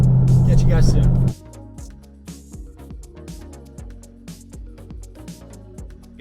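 A custom-built car's engine runs loud and close with a deep, steady rumble for just over a second, then cuts off abruptly, leaving quieter tonal sounds.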